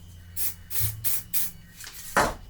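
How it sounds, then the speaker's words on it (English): Several short bursts of spray hiss from an aerosol can, close by, spraying the corner of a prop katana, with brief gaps between them and a final stronger spritz. "I'm going to spray the corner now."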